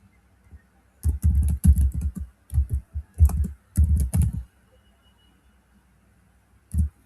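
Computer keyboard typing commands at a command line: several quick bursts of crisp, close key clicks separated by short pauses, then one last isolated keystroke after a gap.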